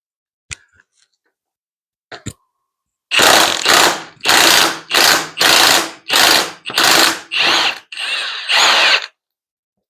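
A larger power impact gun works on a tight fastener of a Benelli BN125 motorcycle, with about eight loud, rapid hammering bursts following one another after a few quiet clicks and no talking.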